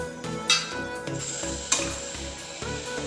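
Garam masala paste is stirred into a cauliflower, chickpea and potato curry in a pan: a soft continuous sizzle under a few sharp clinks of a spoon against metal, close and fairly quiet, with no voices.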